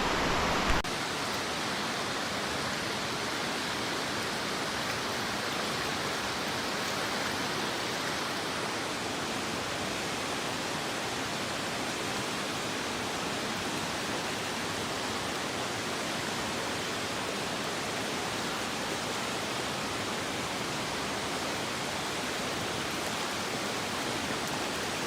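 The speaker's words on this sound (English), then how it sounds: "This waterfall, this single drop here, it's about 500 feet." Otter Falls, a waterfall with a single drop of about 500 feet on the Snoqualmie Lake Trail, roars as a constant, dense rushing hiss that stays even throughout with no voices.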